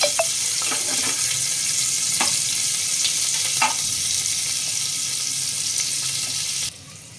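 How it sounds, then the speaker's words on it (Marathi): Steady, loud sizzling of onions frying in a pan, with occasional soft clicks of a spatula, the hiss dropping abruptly near the end. "कांदा जरा थोडासा लालसर होईपर्यंत परतून घेते मी."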